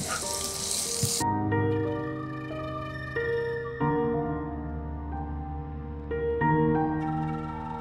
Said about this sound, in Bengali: এখানে আমি পেঁয়াজ, রসুন এবং কাঁচামরিচ ফালি এখানে একসাথে ভেজে নিচ্ছি ভালো করে।